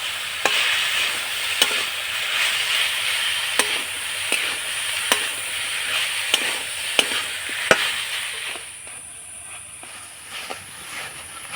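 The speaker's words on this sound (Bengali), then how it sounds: "এবার নাড়াচাড়া করে আমি পুরটা তৈরি করে নেব।" A spoon scrapes and stirs through jaggery filling for jackfruit pitha in a pan over a steady sizzle, with regular sharp taps against the pan every second or so, close and without talk.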